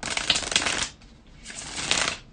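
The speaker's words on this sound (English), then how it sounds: "bear with me just a couple of seconds, guys, to shuffle the tarot cards" Tarot cards shuffled in two quick riffling bursts, each a close, bright crackling flutter lasting just under a second, with a short pause between and no talking.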